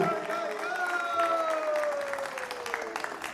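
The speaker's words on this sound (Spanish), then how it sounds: "Fuerte aplauso para mi hermana Laru" Audience applause at a music festival concert, a steady bed of clapping with a sustained tonal drone or held voice running over it throughout.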